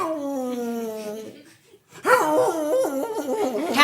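A dog left outside a shop whimpers in long, high, wavering whines, pausing briefly before a louder, yelping run of cries, close and prominent.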